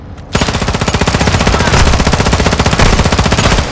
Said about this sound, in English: open fire on the vehicle